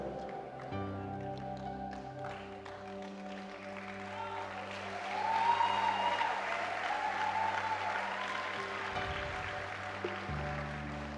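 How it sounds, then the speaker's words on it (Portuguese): A church congregation applauds steadily at a worship service, the clapping swelling midway and sustained throughout, with held organ or keyboard chords underneath. "Pode aplaudir se você quiser."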